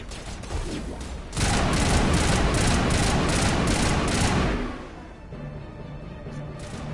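Assault rifle fire in Mass Effect: a loud, continuous automatic burst lasting several seconds that then stops, leaving quieter game ambience.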